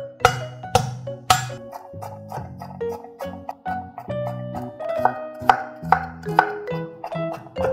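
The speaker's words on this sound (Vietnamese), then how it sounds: "bây giờ mình sẽ băm thêm một ít tỏi và hành tím nữa" A knife minces garlic and shallots on a cutting board, sharp knocks in a steady, quick rhythm, close and clear, with no talking.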